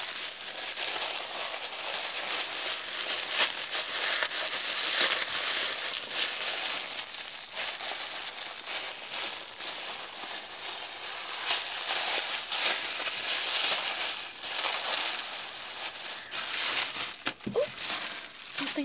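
Tissue paper crinkles and rustles steadily as a gift is unwrapped, a close, continuous crackling texture with a brief shuffle near the end.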